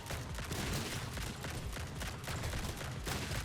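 Dense, rapid volley of split-shot bullets firing nonstop in the action roguelite Grind Survivors, a loud, continuous crackling barrage with bursts layered over each other throughout.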